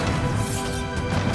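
A Bombarda explosive spell strikes in Hogwarts Legacy combat, one loud crashing impact with a smashing, rumbling body that fills the short moment.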